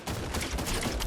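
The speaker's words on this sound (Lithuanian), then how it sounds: "Ei, jis mane šaudo, nedraugiškas!" Dense bursts of video-game gunfire crackle through a Fortnite match, a steady rapid volley of shots lasting about a second with no pauses.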